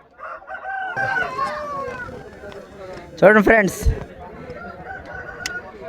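A fighting rooster at a cockfight arena lets out a loud, close crow mid-clip, with shorter clucks and crowing bursts around it, while someone talks over the scene throughout.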